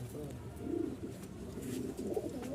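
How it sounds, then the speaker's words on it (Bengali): A pair of Rajshahi Giribaz pigeons, one male and one female, give soft low cooing close by, in a few rolling phrases. A person talks faintly nearby. "একটু বের করে দেখাই কবুতরটা"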